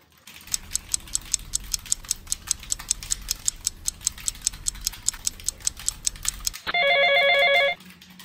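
A clock ticks steadily in a quiet room for several seconds, then a telephone rings with a single loud, electronic trilling burst before stopping.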